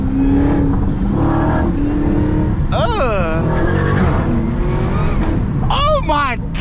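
Chevrolet Camaro ZL1 accelerating hard alongside, a rising supercharger whine climbing over loud, steady engine roar with rapid sweeping pitch changes, while people talk over it.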